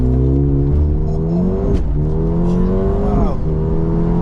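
An Audi S3 8V and a Mercedes A35 AMG launch side by side in a quarter-mile drag race, engines revving hard and rising through gears with audible shift drops, loud and close throughout.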